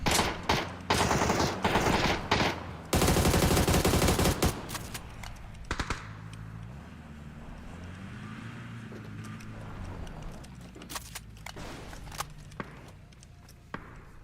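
Video game gunfire cracks out loud and close in rapid machine-gun bursts for the first few seconds, then gives way to quieter ambient game sounds with a few scattered shots.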